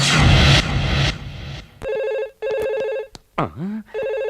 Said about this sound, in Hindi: किसका फोन हो सकता है?